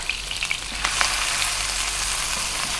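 A tablespoon of garlic with salt and black pepper frying in a pan over above-medium heat, a steady close sizzle with a few soft stirring clinks near the start, no voices.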